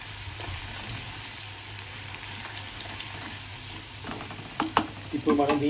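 Ginger garlic paste is stirred in a clay pot of frying stuffed brinjal masala curry, giving a soft steady sizzle with scraping stirs and a few clinks of the spoon against the pot toward the end.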